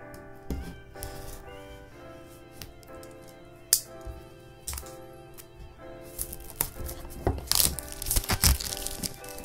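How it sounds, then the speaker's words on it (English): Plastic film is peeled from the box of an OPPO F9 Jade Green smartphone: close crackles and crinkles with small taps, growing denser and louder toward the end, with no talk. "Let me just peel off the plastic."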